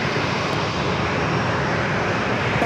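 A Southwest airliner takes off from runway 27 at San Diego airport, heard as a loud, steady, unbroken engine roar with no voices.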